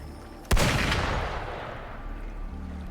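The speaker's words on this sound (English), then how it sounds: "Gunfire! We've got intruders." A single sharp gunshot cracks out in the video game Wuthering Waves, loud and sudden, followed by a long, rumbling echo that slowly fades with no voices.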